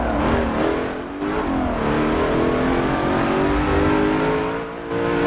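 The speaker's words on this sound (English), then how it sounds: "Complete, utter, just hardcore acceleration" A race car in Forza Motorsport 7 accelerating hard, its engine revving loudly and climbing in pitch through the gears with a brief dip at a shift, sustained and close with no talk.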